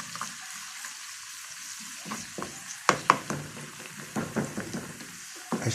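Garlic fries in a pan for Egyptian koshari, a soft close sizzle broken by repeated scraping, clacking stirs from a utensil, irregular and nearby with no talking.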